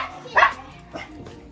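A dog gives one short, close bark early on, followed by a softer yelp a moment later, with some faint background voices around it.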